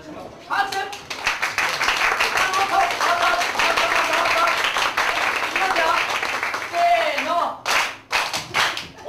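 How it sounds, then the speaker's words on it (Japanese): Audience applause and clapping at a Japanese comedy show's warm-up, sustained steady clapping from a live crowd for several seconds, with a voice speaking near the end as it dies down. "じゃあそれでは拍手をお願いいたします。"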